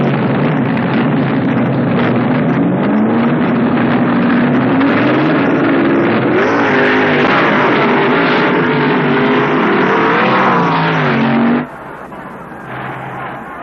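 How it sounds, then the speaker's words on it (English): Twin-engine gas dragsters at the 1970 NHRA Nationals, a loud continuous engine roar with wavering pitch and heavy wind buffeting that cuts off abruptly near the end, leaving a quieter background. "Been a handful of twin-engine gas dragsters running here this week at the Nationals"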